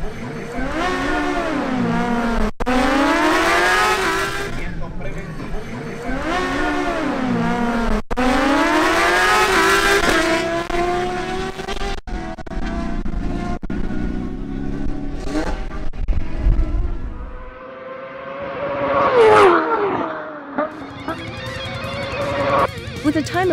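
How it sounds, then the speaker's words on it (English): A Kawasaki ZH2 motorcycle makes a drag racing pass, with loud high-revving bursts that climb, drop at each gear shift and climb again, then trail off as a commentator talks over it. "the Kawasaki ZH2 of Ricardo Ramirez makes a new pass in search of the lead"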